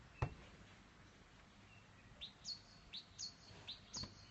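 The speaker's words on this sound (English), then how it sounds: "Can you guys hear the birds?" Several quick high bird chirps repeat in a loose rhythm over quiet outdoor ambience, preceded by one sharp low thump.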